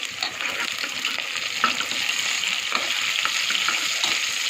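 Onion and tomato frying in a pan with salt for tomato bath, a steady close sizzle with light stirring scrapes running throughout, no voices.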